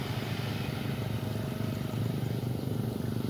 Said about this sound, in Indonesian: Banyak banget motor lewat.